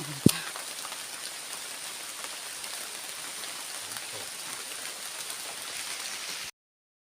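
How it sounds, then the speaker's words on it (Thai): Steady outdoor rain patters on surfaces in a mushroom-foraging setting, a continuous wash of drops with one sharp knock near the start before the sound cuts out at the end. "ฝนบ่านยุดอยู่ด้วยจ้าพี่น้อง"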